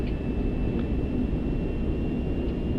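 Airbus A380 engines spooling up for a night takeoff roll in rain and low cloud, heard as a steady, heavy low rumble that holds continuously throughout with no talking.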